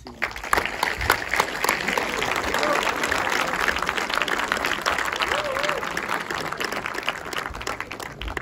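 A cinema audience applauds for several seconds, a steady dense clapping from a crowd, with a voice speaking over it.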